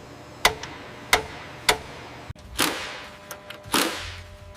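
A manual torque wrench tightening a bolt on an aircraft panel in a jet factory gives three sharp metallic clicks spaced evenly, then a dull knock and a couple of rougher ratcheting strokes, close and fairly loud.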